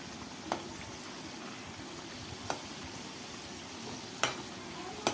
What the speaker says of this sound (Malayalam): രണ്ടാമതും അതുപോലെ തന്നെ നമുക്ക് പൊരിച്ചെടുക്കാം